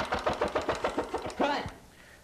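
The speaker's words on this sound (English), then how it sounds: "The quick scratch is a repeated, like a rapid fire scratching of one certain sound" A DJ performs a quick scratch on a turntable record, rapid-fire repeated scratches of one sound in about ten evenly spaced bursts, ending in a longer louder stroke before fading.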